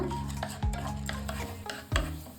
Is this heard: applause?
no